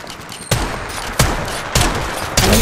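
Repeated bursts of gunfire in the video game Apex Legends, sharp broadband blasts hitting roughly every half second to second over a steady noisy battle bed, loud and close.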